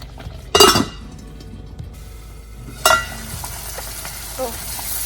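Thick tomato pickle cooking in a pan sputters and pops, with two sharp bursts of spluttering and faint clinks of a utensil, over a low background simmer.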